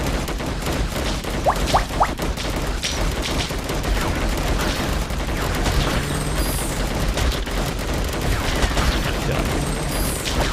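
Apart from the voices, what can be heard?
guns firing in the Defend Your Life video game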